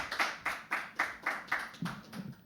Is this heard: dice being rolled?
no